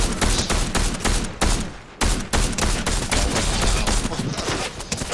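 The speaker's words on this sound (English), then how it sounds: "I'm getting shot at!" Rapid gunfire aimed at the player in Fortnite, loud dense bursts of shots rattling almost continuously with a brief pause midway, close and harsh.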